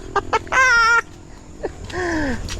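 Rooster clucking and crowing nearby, a few short clucks followed by two drawn-out loud calls.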